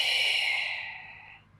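A single long, soft exhale during a beginner yoga core and stretching flow, close to the microphone and gradually fading out with no talking over it.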